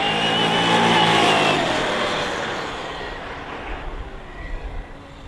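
An HBX T6 desert buggy RC car drives at speed, its electric motor whining loudly and steadily before easing off into rougher rumbling as it slows, close by with no talk.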